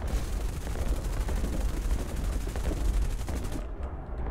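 Aircraft guns fire in a combat video game, a loud, rapid, sustained burst of heavy gunfire that cuts off abruptly near the end.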